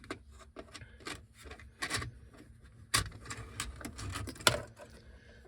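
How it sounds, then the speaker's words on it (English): A cassette adapter with a charging dongle is pushed into a car tape deck, giving a series of plastic clicks, rubs and clunks, with sharper snaps near the middle and end, close and moderately loud with no talking. "let's go ahead and put it in the tape deck"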